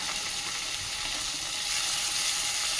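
Chopped tomato, green chili and ginger frying in a pan, giving a dense, continuous, close-up crackling sizzle at a steady level with no talking.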